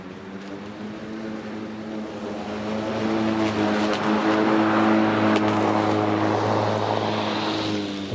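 A Greenworks 80V brushless electric lawn mower runs with a steady, smooth motor whir and a low hum that swells louder over several seconds. No one speaks.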